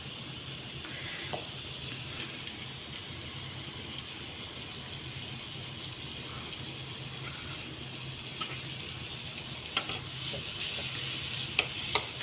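Butter melting and sizzling in a pan while making white sauce pasta, a steady soft hiss with occasional small crackles and a brief scrape or clink near the end.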